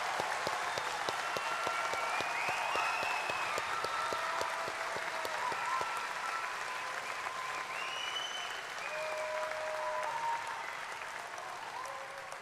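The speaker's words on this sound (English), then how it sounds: "let's give our graduates one final round of applause." A large crowd in a university commencement hall gives graduates a long, sustained round of applause, a steady distant wash of clapping with scattered whoops and cheers rising above it.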